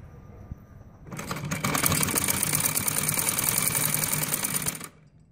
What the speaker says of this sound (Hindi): अब मैं ये बाहर की तरफ सिलाई लगाने लगी हूँ।